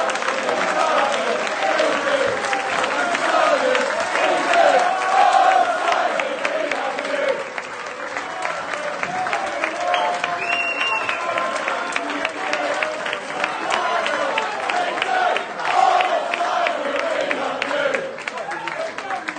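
A big arena crowd at a professional wrestling event applauds continuously, a thick wash of clapping mixed with crowd noise and scattered cheers, sustained and fairly loud for about twenty seconds.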